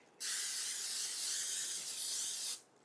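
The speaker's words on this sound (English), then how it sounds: "I'm going to spray it with some nonstick cooking spray." A steady aerosol hiss of nonstick cooking spray coating a baking dish lasts a little over two seconds, close and even, then stops abruptly.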